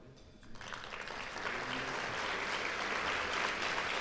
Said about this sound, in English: Would you be so kind to stand and let us give you a round of applause as well?